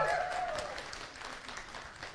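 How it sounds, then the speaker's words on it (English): Clapping from a live weight-loss group show audience, starting fuller under a brief voice and gradually thinning to scattered claps. "give her a big round of applause, please"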